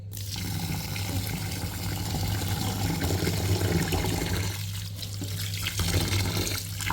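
Tap water pours steadily into a container of rice set to soak in a home kitchen, a loud, continuous splashing rush that holds for the whole stretch with slight shifts in tone and no talking.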